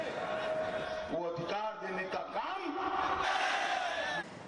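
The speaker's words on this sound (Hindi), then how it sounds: "अमित शाह लगातार अब रोड शोज कर रहे हैं और उसमें अच्छी खासी भीड़ भी नजर आई" Large crowd at Amit Shah's election road show, a loud continuous roar of many voices with whoops and shouts rising above it, steady and dense throughout.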